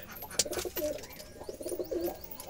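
Several Jalali wild pigeons coo in repeated low, throaty phrases close by, with occasional short chirps and light rustling.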